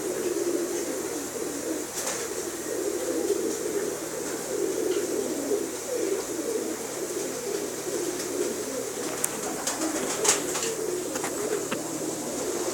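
Pigeons coo in a steady low murmur, with a few brief sharper clicks and bird calls rising above a constant background hiss.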